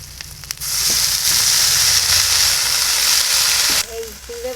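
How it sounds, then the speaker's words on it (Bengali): Bottle gourd leaves frying with already reddened shrimp give a loud, steady crackling sizzle that starts abruptly after a brief quiet moment and holds, then drops away near the end, where a voice briefly begins. "এই চিংড়ি মাছ দিয়ে পাতা দিয়ে ভালো করে ভেজে নেবো।"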